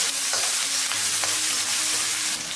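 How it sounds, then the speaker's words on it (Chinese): Scallion, ginger, garlic and small chili peppers stir-fried in hot cooking oil in a wok, a steady loud sizzle with scraping spatula strokes throughout, no talking. "煸炒出香味"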